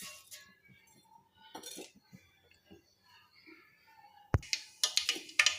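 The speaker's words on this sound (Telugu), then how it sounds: "ఆవాలు, జీలకర్ర వేసుకోవాలి." Mustard seeds and cumin hit hot oil in a pan. A few quiet clinks come first, then a sudden burst of sharp crackling and popping close by toward the end.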